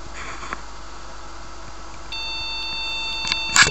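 MSI MS-7301 PC motherboard beeping at startup: brief high electronic tones, a short beep early, then steady tonal whine and a cluster of sharp beeps near the end, close and clear with no talk.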